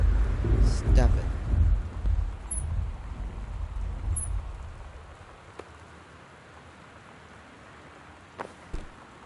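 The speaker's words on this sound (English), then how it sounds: "Thunder, stop it." In the video game Gone Home, a low rumble of thunder rolls over steady rain early on, then fades to a quiet hiss of rainfall with a few faint clicks and taps.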